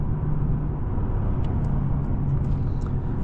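Steady low engine rumble from a 2025 Mercedes-Benz CLE 300 4MATIC accelerating, heard from inside the cabin as a continuous drone with road noise and a few faint higher clicks, no talking.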